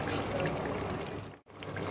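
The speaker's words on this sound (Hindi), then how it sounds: "उसके बाद जो है हम इसमें थोड़ा सा गर्म पानी ऐड करेंगे।" Warm water is poured into a pot of chicken curry, a steady rushing pour that runs close and even before breaking off briefly near the end and resuming.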